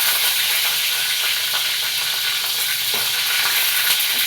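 Green chillies sputter and crackle in hot oil in a pan over raised heat, with water from washing adding a steady, dense sizzle and scattered pops that continue throughout at close range.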